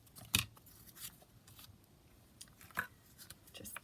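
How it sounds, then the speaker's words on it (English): Scissors snip paper scraps to size at a junk-journal craft desk: a handful of quiet, sharp cuts spaced irregularly, the first snip the loudest, with no talking. "So let's just cut that to size."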